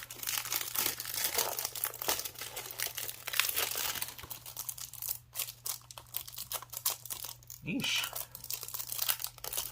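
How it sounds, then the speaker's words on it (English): Plastic wrap is torn off a Blu-ray case, producing close, continuous crinkling and ripping with short tearing bursts, while a steady low hum runs underneath and someone briefly speaks. "Plastic wrap off."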